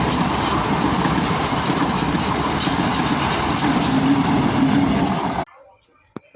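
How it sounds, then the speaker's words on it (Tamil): A train rumbles loudly past at close range, continuous and heavy, then cuts off abruptly into near silence with a faint click. "இப்போ அதுக்குள்ளே ட்ரெயின் வந்துடுச்சு, ட்ரெயினை பாருங்கள்."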